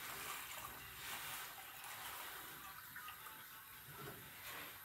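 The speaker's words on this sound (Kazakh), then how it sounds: "2 литр су құямыз." Two litres of warm boiled water pour into a bowl for making boza, a faint, even splashing stream that runs unbroken for several seconds.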